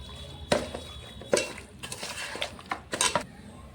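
Goat meat being mixed with yogurt, salt and oil in a bowl, producing a few sharp clinks of spoon against dish and soft wet squelches between them, close and uneven.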